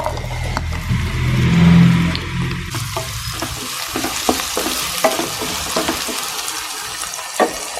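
Chopped small shallots drop into hot oil in a pan for Kerala mutton varattu and fry with a loud rush, then settle into a steady close sizzle with scattered crackles and pops.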